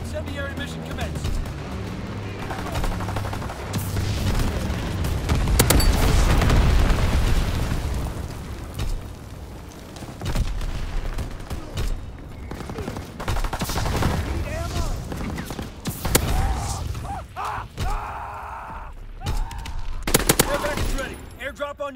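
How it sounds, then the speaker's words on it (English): Dense bombing and machine-gun fire in the World War II shooter game Call of Duty: WWII, with continuous loud rattling bursts and heavy booming explosions throughout, radio voices calling out orders over the battle. "Low altitude bomber inbound. Incendiary mission commenced."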